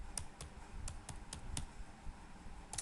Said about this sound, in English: let me type my name